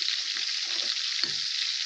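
Onions frying in a pan give a steady, close sizzle that hisses continuously with occasional soft stirring bumps and no voices.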